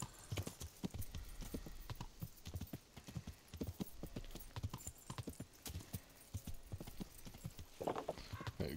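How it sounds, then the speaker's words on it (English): A horse's hooves clip-clop in a steady, rhythmic trot in the video game Kingdom Come: Deliverance, close and continuous for the whole stretch, with a brief whinny and little else. "Pebbles the Wonder Horse"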